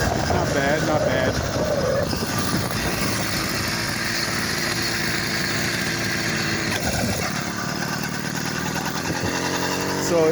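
A 100cc small engine fitted with a different jet and running with its inner exhaust tube cut off and a bottom cap installed buzzes loud and continuously, wavering in pitch as it works, with a voice talking over part of it.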